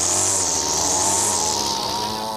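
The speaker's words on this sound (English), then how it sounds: "Then the Poolin 31cc heavy-duty weed whacker." A Poulan 31cc heavy-duty two-cycle weed whacker revs hard and steadily at close range, a loud continuous high-pitched engine whine that holds its pitch without pause.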